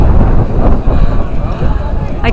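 Cold wind blows hard outdoors during a walk, a loud, steady rush buffeting the microphone for the whole stretch with no clear voices.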